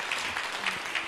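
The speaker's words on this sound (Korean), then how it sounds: "그럼 박수해 주시기 바랍니다" Church congregation clapping together at a Sunday worship service, a steady, dense wash of hand claps with no talk over it.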